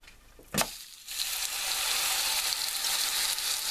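After a sharp clatter, steak starts sizzling loudly in an oiled frying pan, a steady crackling hiss that holds to the end.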